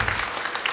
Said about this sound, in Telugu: మీరు ఇవ్వాలి చప్పట్ల సత్కారాలు మన తండ్రి గారికి.